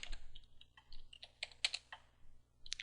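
Keystrokes on a computer keyboard while entering a mail reply in a Linux terminal, a quick irregular run of soft clicks with brief pauses, close and fairly quiet.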